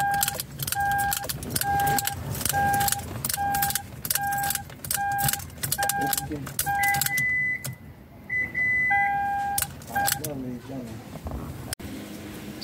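A key turning a 2007-2011 Toyota Camry ignition on and off, with repeated evenly spaced electronic beeps from the car, some key clinks and a voice talking over much of it.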